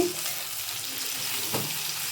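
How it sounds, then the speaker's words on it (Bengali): Cumin seeds spluttering in hot oil with frying onion and tomato, a close, steady sizzle with light stirring scrapes and a brief louder crackle burst. "এই যে জিরে ফোড়ন দিচ্ছি"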